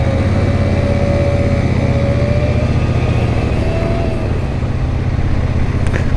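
Royal Enfield Super Meteor 650 motorcycle riding along, a steady close engine drone with wind and road noise and a brief dip near the end as gears change.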